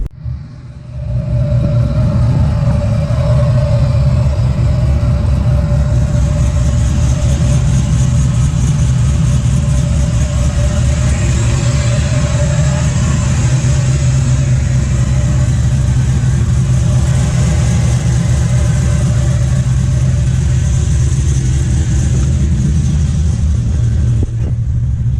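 Close and loud, a steady engine rumble from a truck idling after being refilled with oil, running without a break for about twenty-five seconds with slight shifts in tone.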